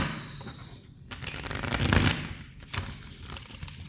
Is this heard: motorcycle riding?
no